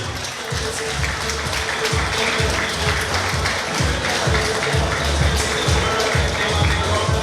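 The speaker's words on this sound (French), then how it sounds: "Vous pouvez applaudir très très fort" An audience at the Miss Ronde Martinique 2014 pageant applauds loudly as contestants are presented, the clapping mixed with a pounding rhythmic music beat throughout.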